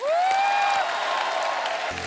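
Studio audience on a Hindi comedy talk show bursts into sustained applause as a guest singer is welcomed, a steady broadband wash of clapping lasting throughout, with a brief tonal cue at the start and no speech over it.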